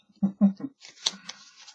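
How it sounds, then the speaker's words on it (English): A deck of tarot cards being shuffled: a few quick riffling bursts, close and fairly loud, followed by softer flicks as the cards settle. "I have shuffled these cards really good."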